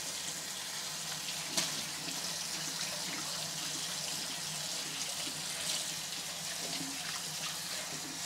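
Tap water runs in a steady, full rush while a heavy-duty kitchen sponge is rinsed under it, continuous and close with faint handling splashes and no talking.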